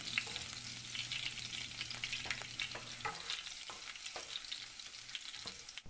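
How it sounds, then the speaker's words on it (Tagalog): Garlic sautéing in hot cooking oil in a pan for Bicol Express: a steady, close crackling sizzle with a low hum, broken by several sharp scraping stirs of a utensil in the second half. "Painitin ang kawali at ilagay ang mantika. Kapag mainit na ang mantika, igisa na natin ang ating garlic."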